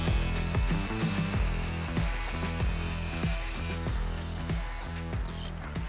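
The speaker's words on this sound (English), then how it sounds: "Put the bolt all the way down, and then we'll cut it off." Power tool cuts off the end of a threaded bolt with its nut run fully down, during a wooden entry stairs build; a loud, close, continuous whine with a pulsing, stuttering rhythm as it bites through the metal.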